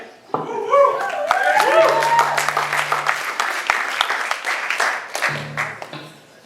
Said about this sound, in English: Thank you all for clapping.